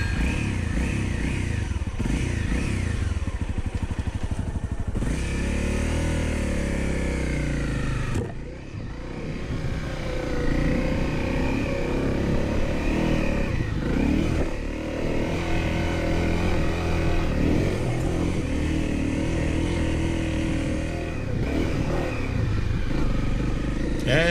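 A Honda CRF250L motorcycle grinds up a steep, dusty hill on a hot day, its engine droning and revving steadily and close by with a brief dip in the middle, with faint clatter and scraping from the trail beneath.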